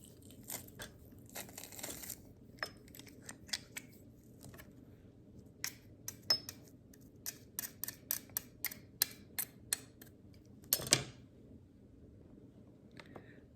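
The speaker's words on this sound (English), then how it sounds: "I'm using this garlic mincer and move on through the process" A handheld garlic mincer crushes garlic cloves in a kitchen with a series of quiet, sharp crunching clicks, irregular at first and then coming in quicker bursts over a faint background hiss.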